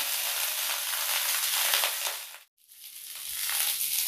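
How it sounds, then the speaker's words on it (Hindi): Broccoli florets frying in hot oil in a kadhai, a steady bright sizzle that drops out briefly mid-way before the crackling frying resumes, close and continuous. "तेल अच्छी तरह से गर्म हो गया है अब इसमें हम ब्रोकली को डाल देते हैं"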